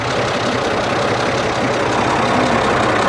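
A 1940 Oliver 70 Row Crop tractor's six-cylinder engine running after years buried in a barn, a loud, close, steady rumbling idle that continues without a break and with no voices.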